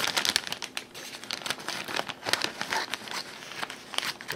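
A plastic bag of frozen Gorton's mac and cheese shrimp bites is cut open, giving close, loud crinkling and rustling with sharp crackly bursts throughout and no talk.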